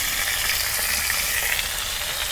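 Dried fish and chopped green chilies fry in a hot pan with a loud, steady sizzle that carries on unbroken, no voices.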